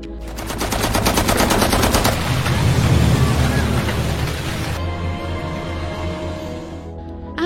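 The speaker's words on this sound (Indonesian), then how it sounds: "para tentara bayaran itu pun langsung menembaki para duyung" Mercenaries fire automatic weapons at mermaids, producing loud, dense machine-gun bursts with rapid regular shots that thin into a lingering rumble and then fade.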